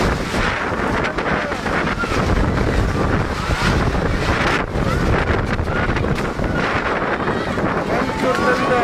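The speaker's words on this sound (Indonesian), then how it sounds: "Angin sangat kencang, tenda-tenda masyarakat terhambur," Strong wind batters earthquake refugee tents in West Sulawesi, a loud, continuous roar of gusts and flapping fabric with heavy wind noise on the microphone and shouting voices in the mix.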